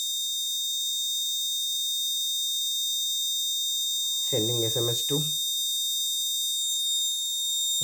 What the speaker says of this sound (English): Fire detected, alarm on.